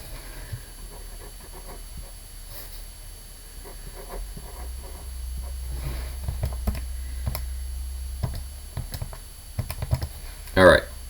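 Calculator buttons are pressed in quick, light taps that come in short irregular bursts, close and fairly quiet, with a brief louder clatter near the end.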